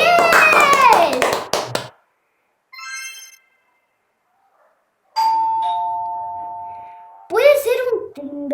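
A household doorbell chimes a clear two-tone ding-dong after a voice speaks, with a brief electronic tone sequence before it and talk resuming at the end.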